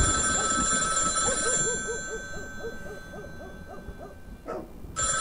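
A telephone ringing indoors during a horror game, a repeated electronic ring pattern pulsing steadily for several seconds, moderately loud, fading toward the end.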